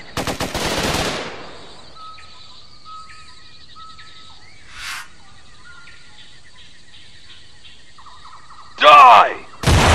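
Bursts of automatic machine-gun fire in the Raven Squad shooter on Xbox 360, a loud rattling volley at the start and two more short bursts near the end, with chirping game ambience in between.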